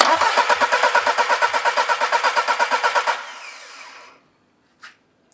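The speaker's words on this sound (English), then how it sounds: "And I can crank the engine." A car engine cranks on the starter while a pressure sensor is connected for cylinder testing. About three seconds of loud, close, rhythmic chugging pulses cut off into a fading whir, then near silence with a couple of faint clicks.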